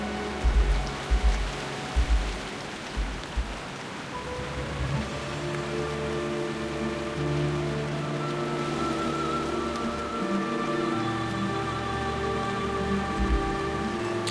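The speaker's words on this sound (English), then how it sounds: "I'm sure this place is gorgeous when it's not like in the middle of a downpour" Heavy downpour in World of Warcraft, a steady, dense hiss of rain on surfaces that runs the whole time, with soft low thumps early on and faint game music tones layered over it, no talking.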